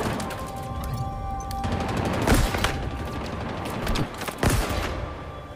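Small-gun fire in Halo Infinite's campaign: a rapid run of dense shots with a few sharper, heavier bursts standing out, loud and close against steady battle noise.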